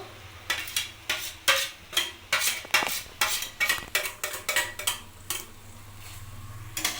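Grated coconut is stirred into banana flower curry in a pan, a rapid, rhythmic series of a dozen or more close metallic scrapes and clinks from the spoon against the pan, steady and fairly loud.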